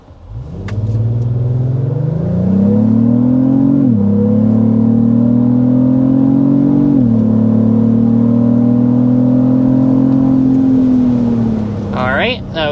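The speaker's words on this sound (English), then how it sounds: "we of course need to start with a hard acceleration" A 2025 Lexus GX 550 engine under hard acceleration to 60 mph, a loud steady rising drone with distinct dips as the transmission shifts gears, fading slightly at the end with brief cabin sounds.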